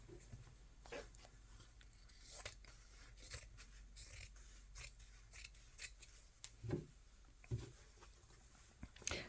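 Scissors trimming fabric for a rabbit needlebook, a faint series of quiet snips and rustles close by, with a few soft handling thumps between cuts.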